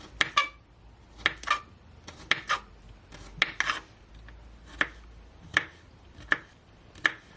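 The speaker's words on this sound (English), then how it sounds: "you want to make sure that you finely chop your garlic" A knife chops finely minced garlic on a cutting board for Jamaican stew chicken, sharp taps landing in quick clusters of two or three, then single spaced strokes, close and crisp in a quiet room.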